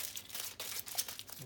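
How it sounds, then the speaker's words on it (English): Soft, brief crinkling of tin foil being wrapped around a piece of wood for stabilizing, quiet and close with a few papery rustles and crunches. "Wrap it up in some tin foil."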